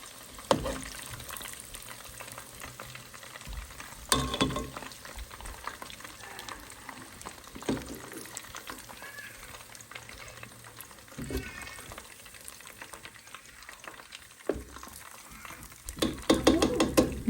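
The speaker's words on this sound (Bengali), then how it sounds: "আমরা তোমাদের জন্য চিকেন ফ্রাই করে" Chicken fries in a pan of hot oil with a soft, continuous sizzle, punctuated by occasional louder scrapes and clatters from stirring.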